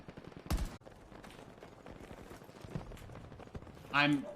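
Scattered gunfire in the Battlefield 2042 beta, a loud close crack followed by quieter distant shots and clatter, with a voice talking over it.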